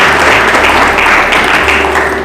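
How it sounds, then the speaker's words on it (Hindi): A church congregation applauding to glorify the Lord, a dense, loud burst of many hands clapping continuously without pause. "ताली बजाकर महिमा दो प्रभु को।"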